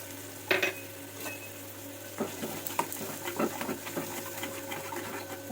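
A spice paste with salt and turmeric is stirred in a pan, giving a soft sizzle with scattered scraping and clinking strokes of a spoon against the pan. The sound is fairly quiet and close, with no talk.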